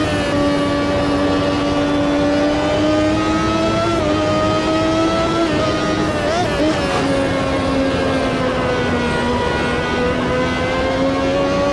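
An early 2000s Gen 2 open-wheel race car in Automobilista 2 screams at high revs around Imola. The engine note holds loud and steady and sweeps up and down through gear changes, with a voice talking over it.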